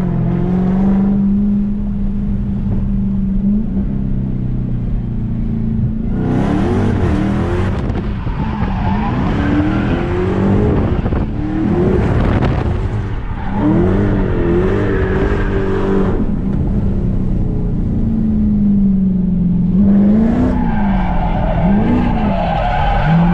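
A stock Dodge Charger drifts with loud, sustained tire squeal and skidding, the engine revving and rising in pitch through repeated slides, close by with no talking.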